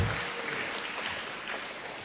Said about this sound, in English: Well, you've already earned your applause.